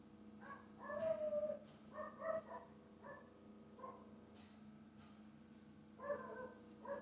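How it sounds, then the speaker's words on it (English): A dog barks and yips in short bursts, several sharp calls spread across the clip with quiet gaps between them, fairly close. "He's just gonna keep barking."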